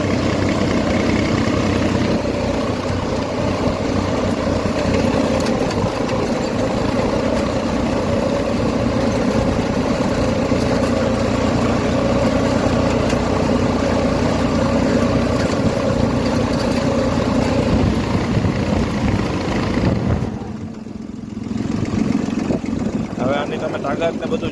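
A tractor engine runs steadily at idle with a broad low rumble for about twenty seconds, then briefly dips before resuming; voices talk faintly over it.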